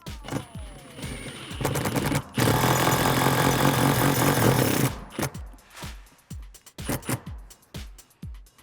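A 13mm socket removes a bolt on a 2009-2019 Ford F150 SuperCrew: a few sharp clicks, then a loud, steady rattling burst of about two and a half seconds, followed by more scattered clicks and knocks.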